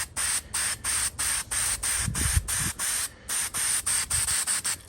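A can of Permatex High Tack gasket sealant sprays in short, evenly spaced hissing bursts, about a dozen in a steady rhythm, close and fairly loud.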